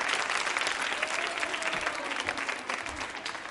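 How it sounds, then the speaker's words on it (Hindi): A women's audience at a quiz show claps steadily, a dense crowd of hands filling the room for several seconds at even loudness, with a faint tone gliding briefly underneath. "तालियां जोरों से बजाइए, जोरों से बजाइए"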